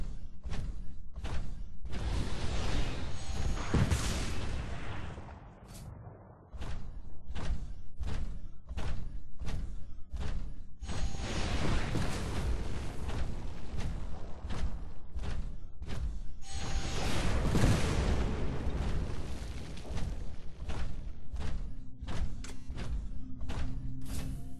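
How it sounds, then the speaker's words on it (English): Rockets blast and thud repeatedly through a Titanfall beta training hallway, a dense, loud run of sharp impacts and whooshing bursts with a few heavier booming swells. "Move down the hallway while avoiding the rockets."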